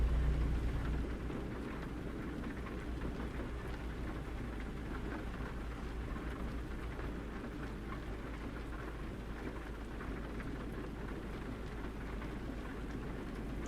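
Heavy rain falls in American Truck Simulator as a steady, dense hiss with a deep low rumble underneath, continuous and even throughout, with no talk.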